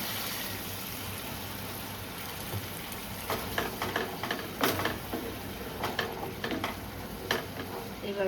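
Spices sauté quietly in oil for a vegetarian paneer curry: a soft, steady sizzle broken by several brisk scraping stirs in the pan.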